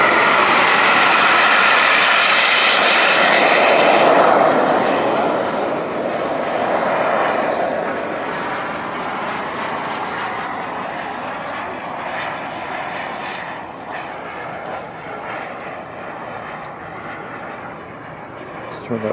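Model L-39 Albatross jet with a KingTech K-60 turbine at a model jet rally in Hemet, California: a loud, steady turbine roar that swells early, then gradually fades as the jet moves away, continuous throughout.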